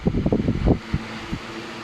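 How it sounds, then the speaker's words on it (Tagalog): An electric disc fan with a newly replaced motor runs close by, starting with bursts of loud rushing air and rattling handling noise before settling into a quieter steady whir. "may pahabol ulit tayo na isang electric fan din. Disc fan. Try na natin siya"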